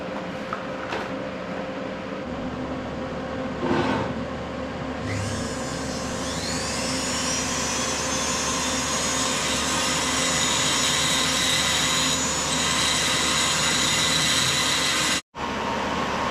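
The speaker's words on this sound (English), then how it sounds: "I've got the heat gun on" Heat gun blowing on engine cases in a workshop, a steady loud airy roar with a constant motor hum throughout, a few knocks and clicks along the way and a brief cut near the end.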